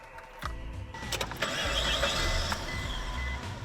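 A car engine cranks and catches, settling into a steady idle with a rising whir and a few clicks; close and loud, with no voices.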